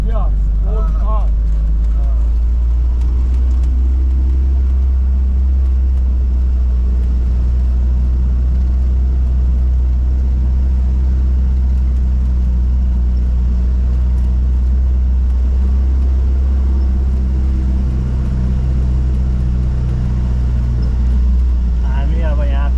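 An old 1958 local jeep rumbles continuously during a ride through Sighnaghi, Georgia, a loud low engine drone with road noise and people talking over it throughout.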